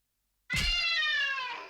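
A person imitates a cat with a single drawn-out, wavering meow, close and loud after a moment of silence.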